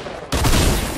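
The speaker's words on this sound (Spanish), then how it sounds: "Y disparé." A sudden loud burst of automatic gunfire from the video game Fortnite erupts after a brief quiet moment and continues as dense, close rapid shots.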